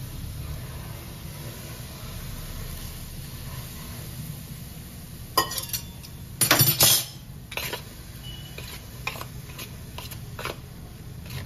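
Flour is mixed with very hot oil using a metal spatula: a few sharp scrapes and clinks against the vessel, mostly in a short burst near the middle, over quiet background hiss.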